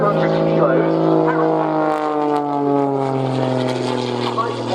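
A high-performance aerobatic aeroplane with a six-cylinder engine of over 300 horsepower drones steadily nearby, its propeller tone sliding slightly lower as it passes, loud and continuous without talk.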